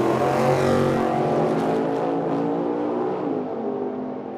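A dragster and a roadster make a drag racing run at Medicine Hat, Alberta, their engines roaring loud and close at first, then fading steadily into the distance.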